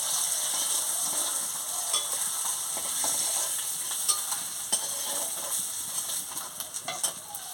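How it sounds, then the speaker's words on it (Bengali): Potatoes frying with salt in a pan while a rohu fish curry is prepared: a steady hiss of sizzling oil runs throughout, with scattered scraping and clicking from stirring that picks up toward the end. "আলুটা ভেজে নিচ্ছি।"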